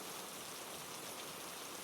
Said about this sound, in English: as light rain began to fall